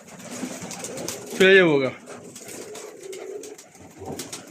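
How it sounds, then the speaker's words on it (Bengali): Pigeons in a loft kept for sale, a single loud coo-like call rising briefly out of the ambient noise, with someone speaking nearby before and after. "দেখেন কবুতর আর কবুতর, মাশাল্লাহ।"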